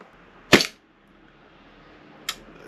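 A gas blowback airsoft MWS rifle fitted with a 250mm barrel fires 0.2 g BBs on green gas: two sharp, close reports spaced almost two seconds apart, the first louder with a short ringing tail, the second fainter.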